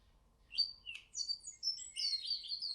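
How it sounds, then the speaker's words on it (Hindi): Small birds chirp and tweet in a cartoon forest, a quick scatter of high, thin calls that grows busier toward the end, fairly faint with nothing else heard. "और कुछ ही देर में सारे पक्षी गबरू के पास आ जाते हैं।"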